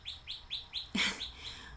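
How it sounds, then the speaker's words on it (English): Small bird chirping outdoors in the background, a run of four short, evenly spaced high tweets followed by a brief burst of noise and a couple of softer trailing chirps, fairly faint. "I don't know if you guys can hear the bird back there"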